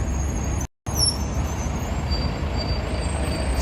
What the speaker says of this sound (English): City sightseeing double-decker, hop on, hop off tours.